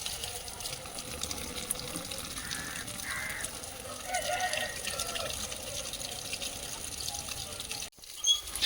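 Water splashing and trickling where a garden pump overflows while plants are watered outdoors, a steady moderate flow with a brief knock near the end.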